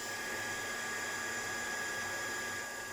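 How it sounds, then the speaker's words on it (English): A heat gun blows a constant, even whoosh while heat embossing a flower card, a steady close hum with no pauses or talk. "Let me just heat emboss that."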